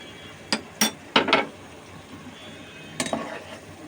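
A metal lid is lifted off a pan of simmering prawn malai curry, giving a few sharp clinks and clatters in quick bursts, then a softer clink moments later, close by against a quiet kitchen background.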